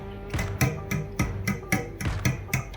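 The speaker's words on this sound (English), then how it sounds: "Then you add the cinnamon as well. You gotta whisk it all in." Whisk beating an egg and cinnamon mixture for French toast in a bowl, a quick regular series of clacking strokes against the sides, close and fairly loud.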